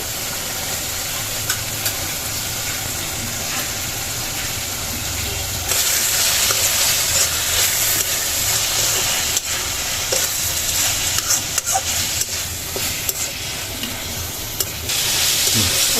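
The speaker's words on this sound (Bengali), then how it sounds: "একদম ভাজা ভাজা করব।" Dried loitta fish sizzles and crackles in a hot pan, loud and close, with occasional scraping of a spatula as it is stirred.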